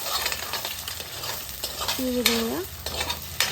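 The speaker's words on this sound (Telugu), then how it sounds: "ఇప్పుడు నేను స్క్రాంబుల్డ్ ఎగ్స్ ప్రిపేర్ చేస్తున్నాను." A spatula stirs scrambled eggs sizzling in a hot pan, with scraping strokes over a steady fry and a brief squeak midway; a voice speaks briefly.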